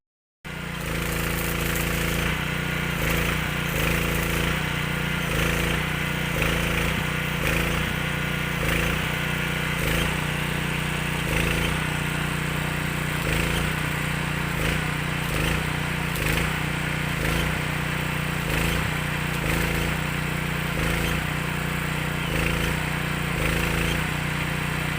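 A PK 160A engine-driven welding machine and generator runs steadily and loudly at a construction building site, with a constant, rough, pulsing motor drone that continues throughout.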